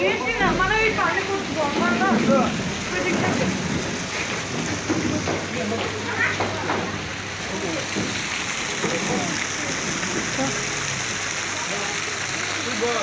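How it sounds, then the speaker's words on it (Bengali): Rain pours steadily outdoors on an outing to Purbachal, a dense continuous hiss of water with voices talking and chatter over it throughout. "বৃষ্টির পানি"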